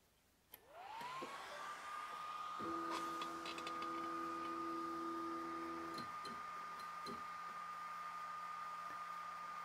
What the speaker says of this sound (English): on power up, the machine automatically homed, there's already movement on the machine